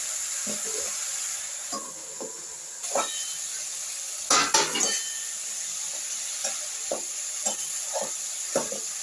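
Spice paste sizzling in a pan with vegetables for a meni fish curry, a steady high hiss broken by scattered scrapes and clinks of stirring, with a louder burst of spatula activity midway.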